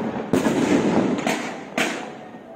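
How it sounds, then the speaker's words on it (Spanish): Fireworks and rockets burst at a Day of the Dead welcome celebration in Huautla, with sharp loud bangs followed by crackling rumble and rolling echo outdoors, no voices heard. "Pues sí, ahí están los cohetes y cuetones."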